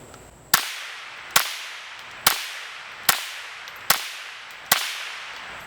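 Six sharp suppressed shots from a Smith & Wesson M&P FPC .22 folding pistol carbine fitted with a .22 suppressor, evenly spaced about a second apart, each a crisp crack with a short decaying tail, close and alone.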